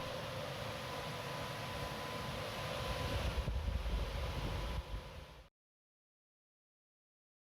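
A scrapyard blower machine pushes out a strong, loud rush of air, a dense roaring hiss that holds steady for several seconds, swells slightly, then cuts off abruptly into silence.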